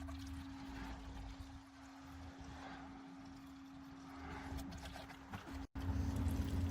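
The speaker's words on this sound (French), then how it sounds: "nous pouvons commencer à verser de l'antigel pour VR dans cette connexion" RV antifreeze is poured into a pipe connection on a SurePoint Ag Systems QuickDraw Max cabinet, a continuous rushing pour over a low steady hum that cuts out briefly near the end, with no speech.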